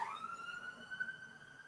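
A distant emergency siren wailing, one long faint tone that sweeps downward and then holds steady.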